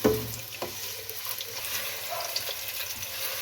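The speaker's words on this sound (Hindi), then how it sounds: "अब प्याज को इसमें फ्राई कर लें।" Sliced onions frying in hot oil in a pot for chicken pulao, a soft sizzle under faint clicks and scrapes of stirring.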